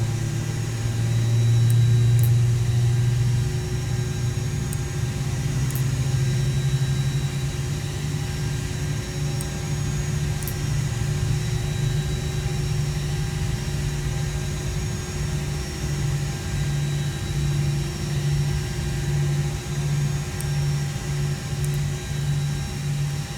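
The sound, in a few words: aircraft engine starting up, engine number 2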